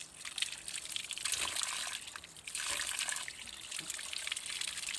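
Cold water trickling and splashing from a village spring spout, close and continuous with bursts of gurgling and brief dips as someone drinks from it.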